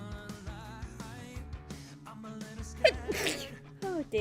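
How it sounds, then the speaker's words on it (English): Person sneezing, a single sharp burst near the end of a short stretch, heard over background game music and sounds. "Oh, I'm going to start sneezing now."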